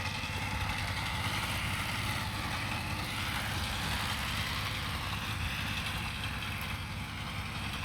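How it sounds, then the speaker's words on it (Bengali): A power tiller engine runs in a large farm field during mustard sowing, giving a steady, fairly faint mechanical drone that holds constant and sounds somewhat distant, with no talking. "এইদিকে আবার আরেকটা পাওয়ার টিলার লাগানো হয়েছে"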